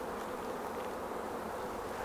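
Honey bees buzz inside a box, a dense, steady, fairly quiet hum with no talking.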